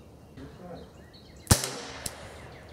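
A single sharp crack from a Keystone Model 722 .22LR rifle fired outdoors, followed by a fainter second snap, heard against quiet background hiss without talk.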